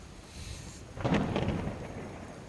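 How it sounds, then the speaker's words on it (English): Rain and rolling thunder in Skyrim: steady rainfall hiss with a thunder rumble swelling about a second in and slowly fading, no voices. "It's still fucking raining as well."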